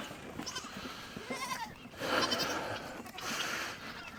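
Goats bleat on a farm as nannies near kidding, several wavering calls rising and falling over a few seconds, one louder cry standing out. Faint voices and outdoor background accompany the calls.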